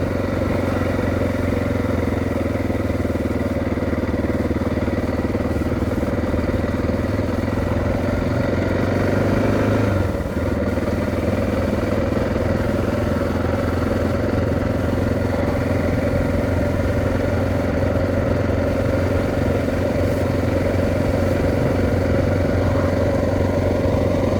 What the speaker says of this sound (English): Another trail bike crossing.